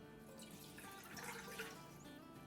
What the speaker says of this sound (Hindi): इसमें हम डाल देते हैं 2 कप पानी